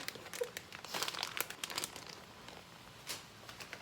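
A plastic cheese bag crinkles and crackles up close in short, uneven bursts, loudest in the middle, with a final rustle near the end.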